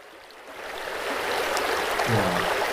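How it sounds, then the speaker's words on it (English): A steady ambient water stream loop from the Noisli background sound app, with a continuous broadband rushing and trickling flow that swells slightly and then holds an even, close level throughout. "The next sound is water stream."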